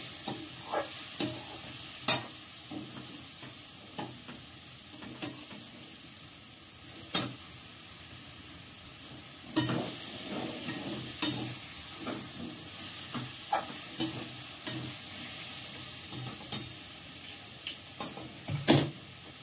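Green peas are stirred into a pan of frying potato and cabbage, a steady sizzle broken by repeated scraping knocks of the spatula at an uneven rhythm, close up and without talk.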